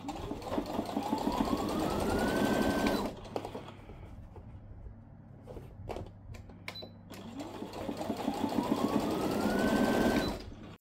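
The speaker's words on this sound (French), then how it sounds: "Et donc je vais venir coudre ici, alors à environ 2 mm du bord." Sewing machine stitching along a bag strap about 2 mm from the edge, in two long, steady motorized runs with a pause of softer handling noise between them.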